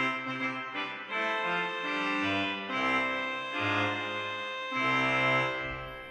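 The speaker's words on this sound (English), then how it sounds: "That's the trumpet and the really strong ground voices you know from the organ" Sustained chords on the reed stops of the great Rieger organ in Vienna, trumpet and strong ground voices, with a deep bass line moving beneath; full, loud and continuous, with chord changes every second or so and no speech.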